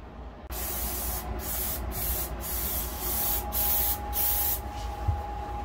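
Spray adhesive hisses onto a trawler's replacement headliner in a cabin with teak woodwork, a steady loud spray broken by several brief pauses, close to the listener and with no voices.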